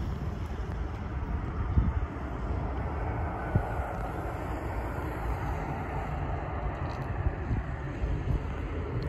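An aircraft on approach to land at Leeds Bradford airport, a steady broad jet roar mixed with wind buffeting on the microphone, with a few brief thumps along the way.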